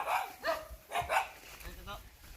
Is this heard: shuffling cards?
no